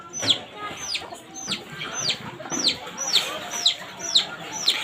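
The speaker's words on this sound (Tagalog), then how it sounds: "Kasamok sa ning manok." Chickens cluck and squawk in a lively, repeated rhythm nearby, with sharp high calls recurring every half second or so over a faint outdoor background.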